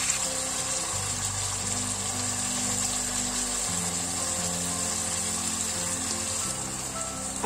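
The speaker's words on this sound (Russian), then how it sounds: "Обжариваем на сильном огне до золотистого цвета" Steady sizzling and crackling of chicken fillet frying in hot oil over high heat, loud and continuous throughout, with a low hum underneath.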